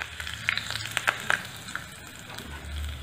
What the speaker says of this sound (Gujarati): આવી રીતે બધી રાઈ ફૂટી જાય એટલે ગેસની ફ્લેમને બંધ કરી દેવી